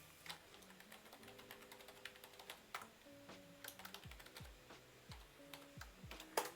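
Typing on a computer keyboard, with quiet, irregular key clicks at close range and a faint tonal hum underneath, and no talking.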